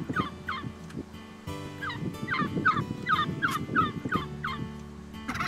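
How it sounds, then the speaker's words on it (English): Wild male turkeys gobble repeatedly in a noisy gathering outdoors, overlapping rolling calls from several birds at moderate distance over a low rumble of background noise. "Gobbling is the trademark call of love-struck toms."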